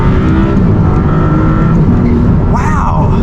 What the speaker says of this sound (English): it's got a nice growl to it, but it's not very deep. It's a 6-cylinder for sure, and you can hear the turbos working their magic